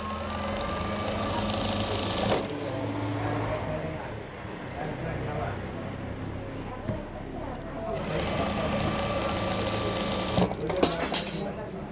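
A sewing machine runs in steady bursts while stitching a panjabi, the fabric held taut, with brief pauses between runs; a person talks over much of it.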